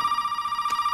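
Telephone ringing inside the horror video game Resident Evil 7, in the Baker family house; a steady electronic ring tone pulses continuously and evenly throughout, heard alone with no talking over it.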